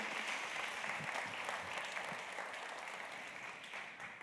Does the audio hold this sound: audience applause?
yes